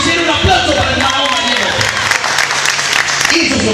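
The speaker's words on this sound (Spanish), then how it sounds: "Un aplauso para el Mago" Audience at a restobar applauds a magician: loud, close clapping and crowd noise with voices mixed in, sustained for a few seconds.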